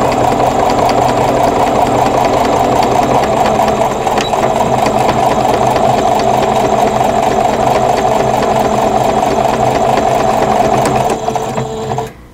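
A sewing machine stitches over previous stitching on a crochet hook wrap, running as a loud, steady, continuous mechanical whir close by before it slows and stops at the very end.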